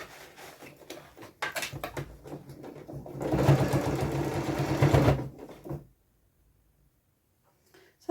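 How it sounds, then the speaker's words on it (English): A sewing machine runs steadily through fabric for a few seconds, a close, continuous whirring hum that builds and then cuts off, with a few brief handling noises before it and near silence after. "And you would sew slower than I am doing."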